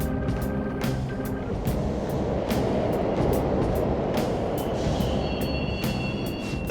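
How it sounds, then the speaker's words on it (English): Subway trains rumble through an underground station in the video game Persona 5 Royal, a steady loud roar with clanking rail transients and a faint wheel squeal near the end, with no talking. "The trains are totally running!"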